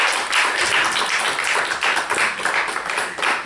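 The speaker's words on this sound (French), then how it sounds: "Je vous demande d'accueillir, d'applaudir son excellence, Kaïdje Simons Baïlé de Fonseca." An audience claps to welcome a guest of honour, a close, lively burst of individual handclaps that swells and dips irregularly for a few seconds with no speech over it.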